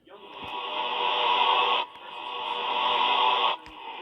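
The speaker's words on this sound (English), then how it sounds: "This is what Jevin sounds like if he's in phase 2." Jevin, a character from the video game Sprunki, in his phase 2 form, producing a sustained buzzy synthetic tone that swells over about two seconds, cuts out, then repeats, with a short third start at the end.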